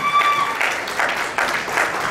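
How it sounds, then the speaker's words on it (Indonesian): Brief burst of audience applause at a gathering, moderate and uneven, with a few louder surges of clapping and a faint tonal ring fading out at the start. "Tepuk tangan kepada Elgin."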